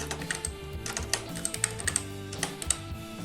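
Quick, uneven keystrokes clatter on a computer keyboard, close up, with soft music or hum running underneath.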